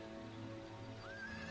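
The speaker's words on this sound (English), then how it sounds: "let's run by the stables and get some better horses" Horses neighing at the stables in the fantasy strategy game Heroes of Might and Magic III, a single drawn-out whinny rising over a steady synthesized game ambience, loud and close.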